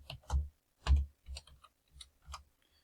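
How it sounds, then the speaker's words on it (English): Typing on a computer keyboard, six or seven soft separate key clicks at an uneven pace, quiet and close, with no voices. "Let me see if I finish typing it."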